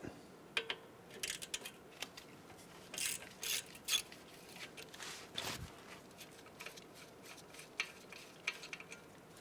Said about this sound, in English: Remove the 10mm bolt from the bracket to the strut.